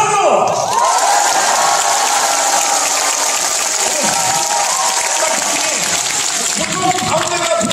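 Large studio audience at a televised 7080-era music show taping bursts into loud, sustained applause and cheering, a dense wall of clapping and shouts that holds steady for several seconds.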